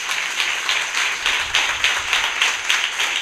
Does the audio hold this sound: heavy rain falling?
no